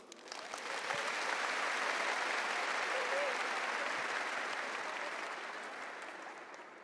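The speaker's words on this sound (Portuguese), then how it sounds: "Aplaude essa palavra." A church congregation applauds together, the clapping swelling in after a moment, holding full and sustained, then tapering gently toward the end.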